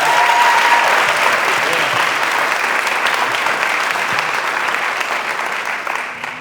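An audience at a graduation rate press conference applauds as a superintendent is welcomed to the podium, a dense, loud, sustained clapping that slowly tapers toward the end.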